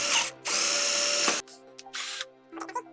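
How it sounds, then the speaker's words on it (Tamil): A Bosch power drill whirs in short bursts while drilling into wood, spinning up loudly then stopping, with mechanical clicks and a whining tone between runs. "இந்த வுட்டில் வந்து ட்ரில் பண்ணி காட்டுறேன்"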